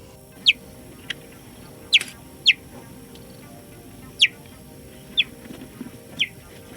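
Several short, high-pitched chirps from a cheetah, spaced irregularly and sounding almost birdlike, over a quiet background hum.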